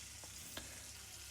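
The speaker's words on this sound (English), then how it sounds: "We can hear it sizzling there as it's taking up some of the fat from the pan." Boiled potatoes sizzle faintly in hot fat in a pan, a soft steady hiss with a couple of light clicks as they are moved around.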